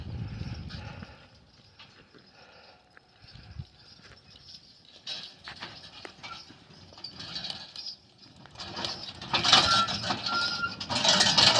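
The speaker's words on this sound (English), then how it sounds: "here comes Mike Wickie with his team, with his hitch" A team of Belgian draft horses pulls a log hitch uphill, hooves clopping in an irregular rhythm that begins faint and far off and grows louder and nearer, with jingling and clanking from the hitch toward the end.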